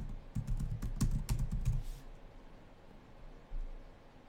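Computer keyboard typing in a quick burst of close clicky keystrokes lasting about two seconds, then quiet room noise.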